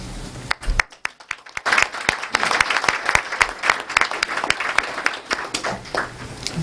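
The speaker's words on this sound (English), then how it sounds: "let's give another round of applause for all the students of the month" An audience at a school district event applauds the students of the month, loud and close, with sharp individual claps building into a lively, uneven round that carries on for several seconds.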